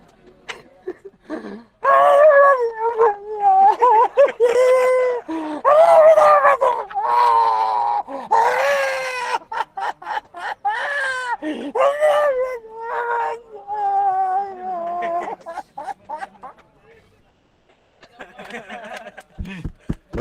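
A man imitates a child crying, with wailing, whimpering sobs in repeated bursts over about twenty seconds, loud and close, with short pauses between them.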